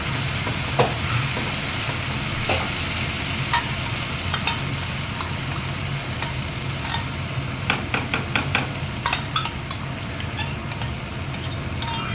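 Hand-ground spice paste fries and sizzles steadily in a pan, with continuous crackle and occasional sharp clicks and scrapes of a spoon stirring, close and fairly loud throughout.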